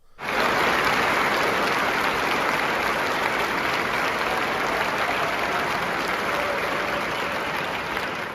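Steady, dense applause from a large audience at a Federalist Society anniversary gathering, sustained and even throughout with no pauses.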